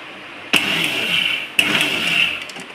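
A kitchen mixer grinder runs briefly on mustard seed dal. The close, loud motor whirs in two short bursts, each cutting in abruptly with a steady high hum and coarse rattling.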